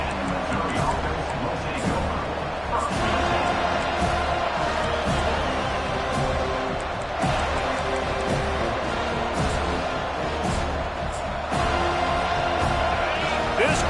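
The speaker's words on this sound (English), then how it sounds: "This crowd bringing the energy and noise early" A steady, loud stadium crowd roar from a Madden football video game, with cheering and continuous hubbub throughout and a voice talking over it.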